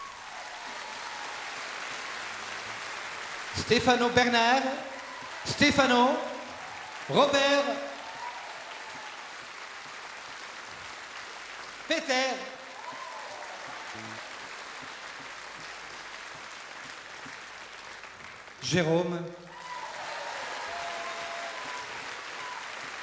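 Concert audience at the Olympia in Paris applauding in several short bursts as musicians are introduced one by one, each round of clapping rising and fading between a man's spoken introductions.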